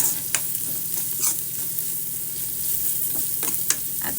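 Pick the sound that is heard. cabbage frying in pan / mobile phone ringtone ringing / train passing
cabbage frying in pan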